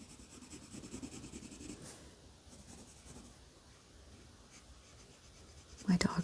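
A pencil draws on paper at close range, making soft, steady scratchy strokes and rubbing in short bursts, faint and continuous, ending with a brief louder knock.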